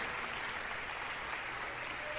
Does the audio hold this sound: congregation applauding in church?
yes